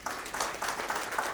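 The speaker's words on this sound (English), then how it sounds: "Huge round of applause." Audience applause at a Rainbow Technologies corporate event, a short burst of brisk, steady clapping from a crowd, fairly close and without talk.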